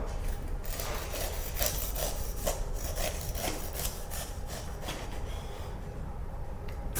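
A knife saws back and forth through a coffee cake dusted with powdered sugar, a close, steady rasping with repeated strokes and no talk.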